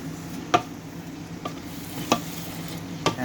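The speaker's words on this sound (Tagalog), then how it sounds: "halo-haloin lang natin" Pinakbet vegetables sizzle steadily in a pan while a utensil stirs them, with four sharp scraping knocks spaced about a second apart, close and fairly loud.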